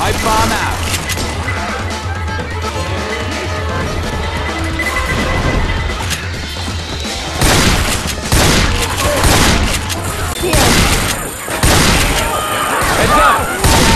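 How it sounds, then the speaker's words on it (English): A pipe bomb goes off amid video game gunfire: loud, continuous rattling bursts of shots and booming cracks fill the mix, while players shout over the noise. "Pipe bomb out!"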